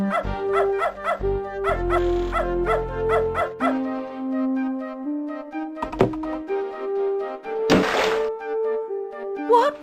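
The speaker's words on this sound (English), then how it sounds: "That dog is in my way. And I bet his bite is worse than his bark." Dog barking in the point-and-click adventure game Beneath a Steel Sky, several sharp barks and yips in quick succession early on, with game music and clunky effects around them, then a later burst of noise.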